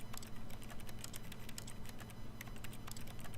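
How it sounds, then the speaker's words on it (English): Rapid, steady keyboard typing in The Stanley Parable video game, clicky keystrokes over a low hum of room tone. "It sounds like I'm typing."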